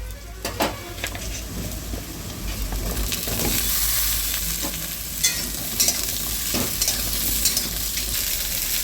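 Chopped bottle gourd goes into onions frying in oil, and a steady sizzle follows with scraping stirs and clinks from a spatula against the pan.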